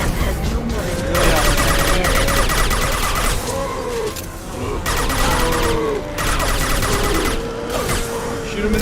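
Rapid gunfire in a firefight in Mass Effect 2, dense repeated shots and impacts layered with game sounds, fairly loud and steady, with occasional speech under the din.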